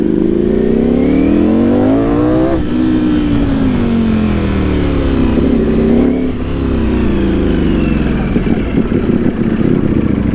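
A V4 big bike motorcycle accelerates hard on a test ride in first gear, its engine rising in pitch through repeated loud revs with brief dips between pulls.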